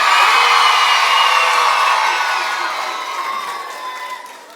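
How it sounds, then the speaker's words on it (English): Children at Urmston Junior School cheering loudly together, a high shrill crowd of whoops and shouts that swells at the start and slowly fades toward the end. "how about you give yourselves a big cheer here?"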